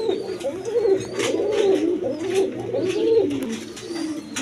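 A big-sized pair of Kaldom pigeons sitting on two eggs coo in repeated rolling phrases, close and fairly loud, with no speech over them.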